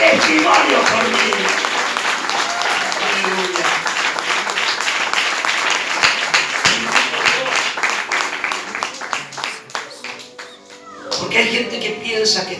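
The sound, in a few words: congregation applauding the Lord in church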